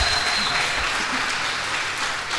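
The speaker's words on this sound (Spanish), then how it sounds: "Dele palmas fuertes al que vive." Loud, close applause from a church congregation fills the short stretch, a thick continuous clatter of many hands without a break.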